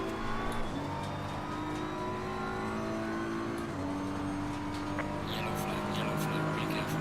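An in-game race car at Imola in Assetto Corsa Competizione, running a one-hour race on the downhill toward Rivazza. Its engine gives a loud, continuous drone that drops in pitch at each gear shift, with faint tyre and wind noise underneath.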